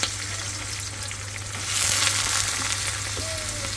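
Bitter gourd with onion and green chili fries in hot oil, a steady close sizzle that swells louder midway as it is stirred, with no talking.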